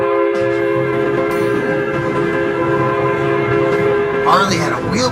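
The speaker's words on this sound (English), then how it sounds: "Train's coming." A train rumbles past with a sustained, loud horn blast, used as a sound effect during a children's story reading, with a steady rolling roar that stays continuous throughout.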